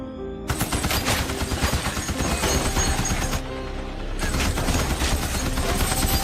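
Sustained heavy machine gun fire, loud and close, rattling in dense continuous bursts with a brief lull before resuming.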